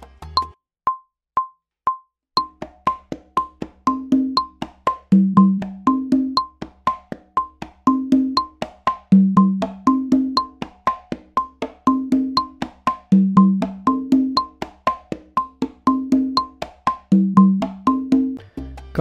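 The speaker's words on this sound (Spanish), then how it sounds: "Ahora veremos el patrón de la conga en el momento del soneo." Conga and tumbadora playing a salsa pattern for the soneo section, with low and higher drum tones in a steady syncopated groove over a repeating clave-like click, close and alone without voices.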